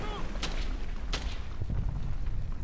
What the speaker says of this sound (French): en fait, j'avais pas capté, mais c'est un canon!